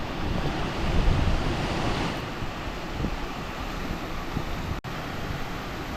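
A hidden waterfall at Valparai pours in a continuous broad rushing roar, steady and fairly loud, with a brief dropout near the end and no voices.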